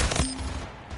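Gunfire in the arena shooter Splitgate, a short loud burst of shots at the start, then a fading ringing tail.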